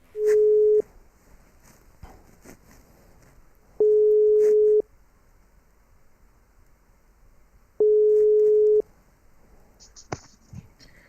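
A phone call to Belgium rings out with three long, even tones, each about a second long and spaced a few seconds apart over a quiet line.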